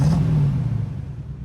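A Chevrolet C10 truck engine idles after a drive, treated with K-Seal Blue head gasket sealer for a failing head gasket, a low steady rumble with a brief rev at the start before settling into an even idle.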